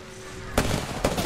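A grenade going off in the battle royale shooter Apex Legends: two sharp, loud bangs about half a second apart, close and punchy, with no talking.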